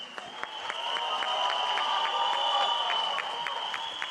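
A crowd at a film trailer launch event applauds steadily over a sustained high tone, clapping swelling and holding for several seconds at moderate distance.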